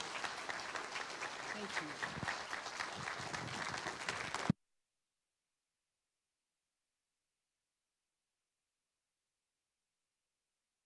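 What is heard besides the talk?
applause for the guests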